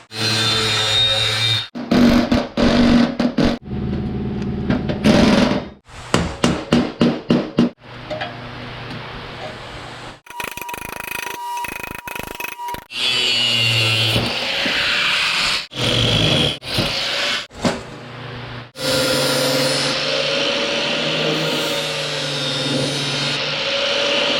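A piece of 2.5 inch steel exhaust pipe for a Jeep 4.7 stroker exhaust build is cut with a power tool in repeated loud bursts, including rapid short stutters, a whining tone and longer grinding stretches, up close with no talking.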